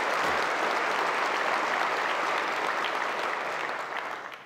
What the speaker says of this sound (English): I think we owe them all a big round of applause for what they did.